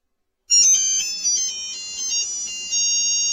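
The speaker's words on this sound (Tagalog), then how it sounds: "Ba't gano'n to ringtone ng ano natin?" A Viber ringtone plays loudly on a phone, a bright melodic chime pattern of repeating high tones that starts abruptly and runs on with no talking.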